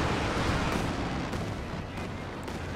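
A Panzerwerfer rocket artillery barrage lands in a Company of Heroes 2 battle, making a dense, continuous roar of blasts and rumbling impacts that stays loud and even throughout the clip.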